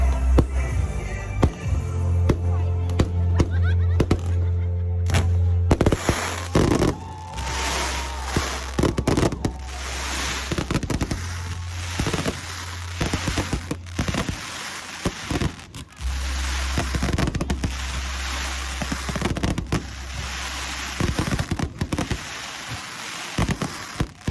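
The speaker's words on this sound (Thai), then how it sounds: "ก็จะมีการจุดพลุนะคะ เพื่อเป็นการเฉลิมฉลองให้กับคู่บ่าวสาว" Outdoor fireworks crackling and popping in dense bursts with sharp bangs, a steady low hum running underneath throughout.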